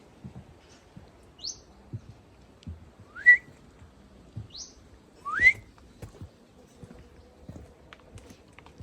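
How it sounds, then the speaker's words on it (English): Birds in a poolside garden in Tenerife give two pairs of short rising whistled calls, clear and fairly close, over quiet ambience with soft footsteps or knocks. "Love when the birds sing and speak."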